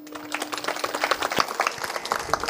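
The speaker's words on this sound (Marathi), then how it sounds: "महाराजांसाठी जोरदार टाळ्या वाजा एकदा." An audience claps at a religious discourse, a dense, steady patter of many hands lasting a couple of seconds, moderately loud with no voices over it.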